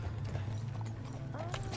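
Horse hooves clip-clop in Red Dead Redemption 2, a quick run of close, soft thuds heard briefly alongside game ambience.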